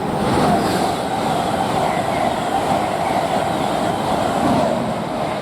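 A Great Western Railway IET train passing through Didcot Parkway station, heading toward London, with a steady loud rumble and rushing noise continuing throughout.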